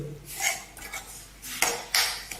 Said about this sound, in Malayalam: നന്നായിട്ട് ഇളക്കി കൊടുക്കണം